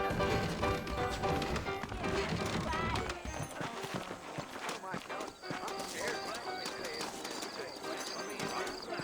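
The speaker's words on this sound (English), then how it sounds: "I got the horses saddled up and ready out front." Saddled horses' hooves clip-clopping in the video game Red Dead Redemption, a continuous trotting patter mixed under steady speech and background sound throughout.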